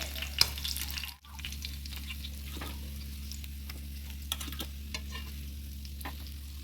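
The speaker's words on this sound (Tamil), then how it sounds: "ஸோ மீன் நல்லா 2 பக்கமும் ஃப்ரை ஆயிடுச்சு." Fish frying in a pan, a faint, steady sizzle over a constant low hum, with occasional soft clicks and taps, and no talking.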